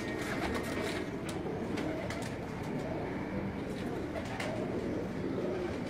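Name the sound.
Kabuli high flying pigeon cooing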